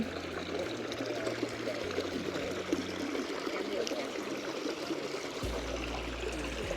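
Water falls into a park fountain in Budapest, a steady close splashing rush with a constant texture throughout, with a low hum underneath and no speech.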